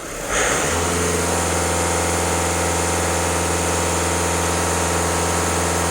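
VW Passat B7 1.6 TDI diesel engine idling after an emissions-system cleaning, a steady close mechanical hum with constant low tones starting just after a brief onset, loud and uninterrupted without voices.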